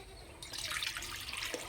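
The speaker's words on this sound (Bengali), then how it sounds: "কড়াই দেবো জল" Water is poured into a wok on a lit stove: after a brief quiet moment, a soft, continuous splashing pour begins and keeps going at low volume.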